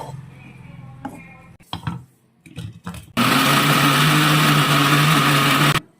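A mixer grinder whirs loudly and steadily for about three seconds, blending a smooth leafy chutney of mixed greens and oil, after a few short bumps and knocks.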